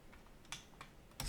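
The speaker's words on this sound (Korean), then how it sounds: "스페이스, 클릭, 스페이스, 클릭입니다." Several faint, quiet clicks of a space bar and a computer mouse, spaced apart with a couple of sharper taps.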